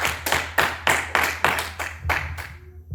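A church congregation applauds in steady, rhythmic claps, about ten even beats of close, loud hand clapping that slows and thins out toward the end.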